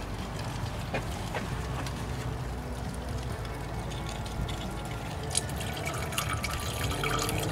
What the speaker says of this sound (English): I'm gonna put the antifreeze. Don't put water, put antifreeze.